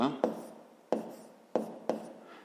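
Pen strokes on paper while working a fifth-grade math exercise: four sharp, close scratches spaced about half a second apart, each fading quickly, in a quiet room.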